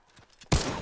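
A pump shotgun fired in Fortnite: a single sharp, loud blast that breaks in suddenly after faint background noise and then fades slowly.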